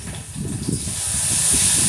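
Onions and small shallots frying in a pan give a continuous steamy hiss that swells slightly over a couple of seconds, close and fairly loud, with a low rumbling texture underneath and no talking.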